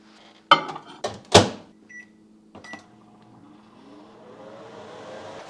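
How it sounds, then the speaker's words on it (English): Microwave oven defrosting a frozen meatloaf: a few sharp clicks and knocks of the door and buttons, a beep, then the low steady hum of the oven running. "Using the microwave setting in 5-minute intervals, flipping in between."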